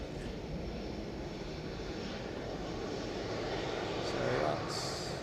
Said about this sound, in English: So that's a Ryanair off somewhere.